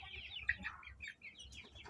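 Chickens cluck in short, irregular bursts close by, several birds overlapping with soft scratchy background noise and no speech.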